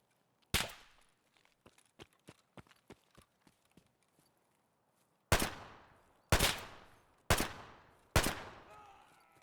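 Gunfire in the shooter Escape From Tarkov: a single sharp shot, a scatter of faint footstep-like ticks, then four loud, spaced shots cracking and echoing one after another, with no talk.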